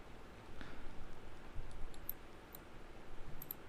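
Soft computer mouse clicks sound during work in the Unity editor, a few faint, close taps spread over a low background hiss, with no speech.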